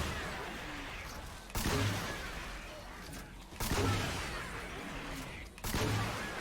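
A Pumpkin Launcher in Fortnite Save the World fires three times at roughly two-second intervals, each a sharp, booming launch with a whooshing tail that fades into a quieter, busy background.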